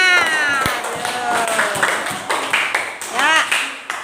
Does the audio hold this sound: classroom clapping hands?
yes